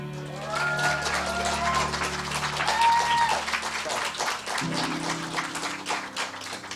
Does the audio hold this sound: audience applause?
yes